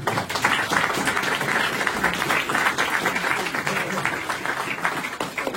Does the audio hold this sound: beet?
no